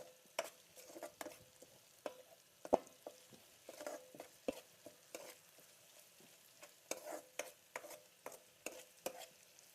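Ginger paste stirred and frying in a pan, with intermittent spoon scrapes and light sizzling bursts spread irregularly throughout, fairly quiet and close, no voices.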